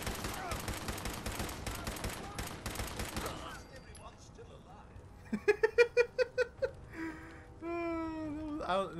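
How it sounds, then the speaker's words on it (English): Dense rapid gunfire in Fallout 4 for the first few seconds, then it stops, leaving quieter noises, a few sharp tonal bursts and a voice near the end. "You guys didn't hear the, 20 gunshots that just happened?"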